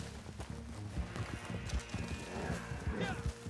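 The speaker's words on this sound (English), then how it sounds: "Oh, yes. Go, horsey, go!" Hooves clop rapidly as a horse gallops in the video game Red Dead, a busy rhythmic patter under excited voices talking over game sounds.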